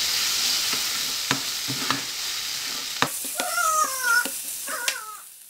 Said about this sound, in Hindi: हल्दी को हम थोड़ा सा पका लेंगे कि इसका कच्चापन जो है वो निकल जाए।